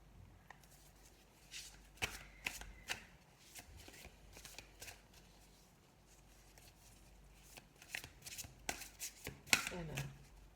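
Tarot cards are shuffled in quick riffling bursts and soft slaps, close and quiet, with a brief pause midway before more vigorous shuffling near the end; a faint voice is present.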